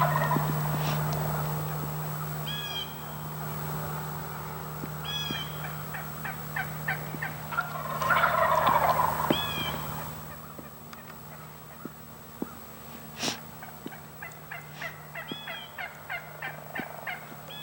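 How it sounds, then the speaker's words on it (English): Wild turkey toms gobble repeatedly on an early morning outdoors, several rattling bursts standing out clearly at moderate distance over steady background hum, with a louder flurry midway and scattered sharp knocks toward the end. "The toms will, first thing in the morning, usually gobble it, at least once or twice"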